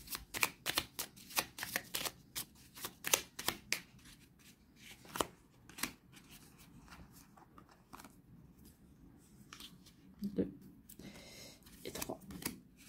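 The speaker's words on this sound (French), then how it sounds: "En tout cas, on va prendre 3 cartes." Tarot cards are shuffled in quick, close riffling bursts, followed by quieter slides and taps as cards are drawn and laid down, with sparse soft handling noises between.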